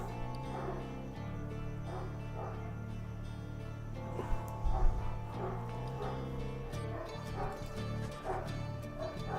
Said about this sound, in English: why are they barking so much?